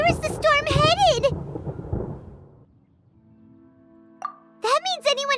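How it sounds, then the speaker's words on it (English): Low rolling thunder from a storm in the Genshin Impact video game, a brief deep rumble that swells and fades between bursts of a character's speech. "Paimon hears thunder!"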